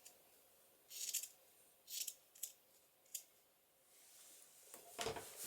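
Scissors snip through paper for a journal album in several separate cuts, crisp and close, spaced about a second apart, with a longer final snip and no talking.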